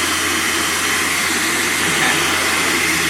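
A Dyson Supersonic hair dryer blows steadily up close, a loud continuous whooshing hiss with no break or change in level throughout.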